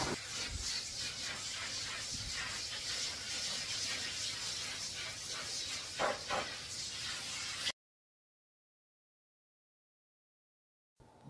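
A blow dryer hisses steadily and loudly while drying a small dog during a grooming session, then cuts off abruptly into silence before a brief noise at the end.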